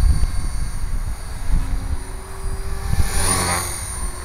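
A nearby 450-size model helicopter's rotor engine whines and buzzes steadily, its pitch rising and falling as it flies aerobatic manoeuvres overhead.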